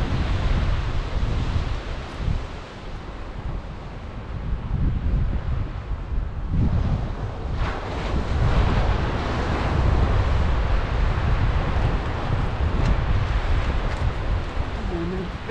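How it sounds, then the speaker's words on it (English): Strong wind on the seashore during sea fishing, a continuous heavy roar buffeting the microphone with surf underneath, building louder midway, with occasional talk. "Wind's picked up, so I hope you can hear me."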